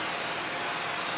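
A can of Fluid Film sprays onto a Dodge Dakota wheel hub, a close, steady, loud aerosol hiss that runs without break for the whole moment.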